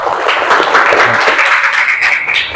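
Applause from a classroom audience during a teacher-training lesson, a steady patter of hands lasting the whole moment at moderate loudness, with no one speaking over it.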